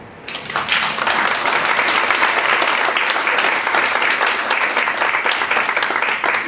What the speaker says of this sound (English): Before anybody leaves this place, I want you to cheer them now.